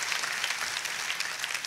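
A church congregation claps loudly and continuously in a dense, even burst of applause that fills the brief moment, with no speech over it.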